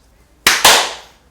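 A film clapperboard slate struck during interview recording gives two sharp, loud claps in quick succession, the second a fraction of a second after the first, each ringing briefly, close and alone.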